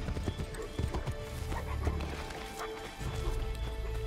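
Horse in the video game Assassin's Creed 3, close hoofbeats clip-clopping in a quick rhythm with a neigh partway through, loud against the game's background sounds.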